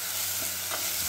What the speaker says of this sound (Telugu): ఇప్పుడు ఇందులోనే కొద్దిగా పట్టి పెట్టుకున్న మసాలా వేసి కొద్దిగా కలుపుకోవాలి. ఫ్రై చేయాలండి ఇలా